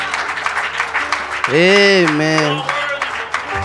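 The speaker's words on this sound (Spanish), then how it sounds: "¿Puede dar un aplauso, hermanos?" Church congregation applauding during a Sunday service, steady clapping under a loud sung or shouted voice that rises over the middle of the clapping.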